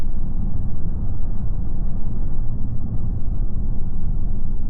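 A 2025 RAM 3500 HO Cummins diesel truck with a ZF 8-speed gearbox drones loud, low and steady as it slows through its gears, with no distinct shift points standing out.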